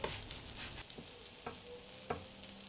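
Banana pancakes made with whole wheat flour fry in butter in a pan, a steady soft sizzle with a few light scraping clicks from a spatula, close and moderately quiet.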